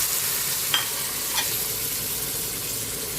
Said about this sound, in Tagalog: Pwede na natin ilagay yung ating pork.